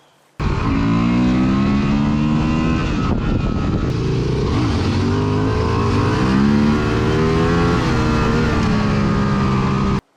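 A 2024 Honda XL750 Transalp adventure motorcycle revs hard during a wheelie, the engine note loud and sustained for about ten seconds with rising and falling pitch as the throttle is worked, starting abruptly and cutting off at the end.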